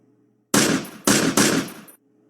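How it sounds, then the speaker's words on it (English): Video game machine gun fire in three loud, close bursts of rapid shots separated by short gaps, each burst sharp and dense, against near-silent game background. "music and the sounds of gunshots."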